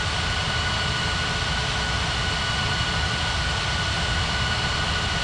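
Aircraft engines at an airport in an air traffic control game set at Ngurah Rai, Bali, produce a constant, loud, even jet roar that holds steady throughout with no breaks.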